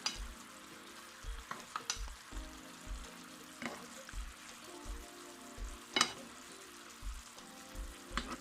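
Jerk salmon pan-sears in a sizzling sauce, with a constant crackling fry under repeated short clinks and scrapes as the fish is moved around the pan and sauce is spooned over it. No one speaks.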